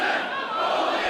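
A wrestling crowd in an arena reacts to an agile move with a dense, sustained roar of cheering voices, loud and steady throughout.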